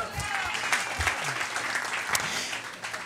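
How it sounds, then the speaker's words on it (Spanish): A church audience gives a round of applause, a dense burst of many hands clapping at close range with some murmuring and voices mixed in. "Un aplauso para José."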